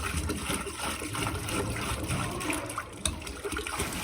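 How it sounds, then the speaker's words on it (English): Water running from a hose or tap into a horse's water tub in a stable on a snowy day, a continuous close gushing and trickling sound with small splashes and no talking. "go and fill up his water tub so that I can top his water up"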